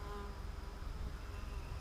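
A swarm of honeybee foragers with pollen on their legs, hovering near a swarm trap in a yard, gives off a steady, dense buzzing hum that holds even throughout, faint and continuous with no break.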